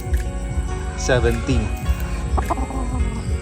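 Gamefowl chickens cluck repeatedly in a noisy farmyard, several birds calling over one another with a steady low background hum.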